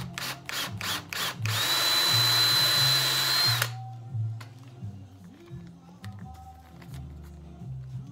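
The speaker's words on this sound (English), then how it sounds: "drill the hole for the pin in through the barrel lug" A power drill bores a pin hole through the lug of a gun barrel: several short taps, then a sustained high whine for about two seconds, followed by quieter handling clatter and low rumbling.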